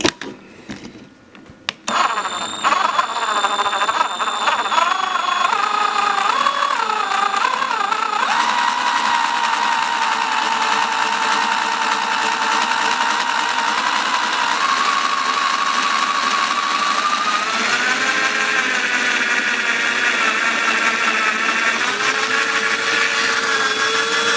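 A power drill bores out a broken bolt, a loud, close motor whine that spins up after a short start and then holds steady for a long stretch, its pitch shifting slightly under load.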